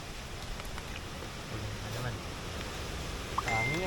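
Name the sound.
light fine rain with strong wind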